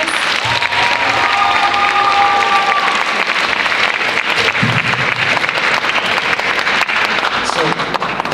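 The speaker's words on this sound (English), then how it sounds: "Let's give all of our students a round of applause." Sustained, loud applause from an audience at a student poetry recitation finals fills the hall for several seconds, a continuous dense roar of clapping with faint voices mixed in.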